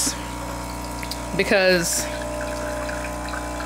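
A DeLonghi all-in-one coffee maker and espresso machine pumps water out in a brief loud burst with a rising whine, midway through a steady mechanical hum, with a person briefly speaking.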